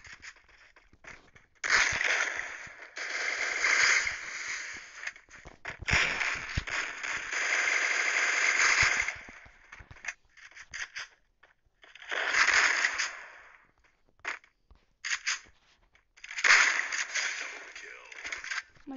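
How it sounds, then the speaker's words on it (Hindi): Video-game machine gun fire comes in repeated sustained bursts of rapid, crackling shots lasting several seconds each, separated by short gaps and scattered single pops. "मशीन गन चलाएगा"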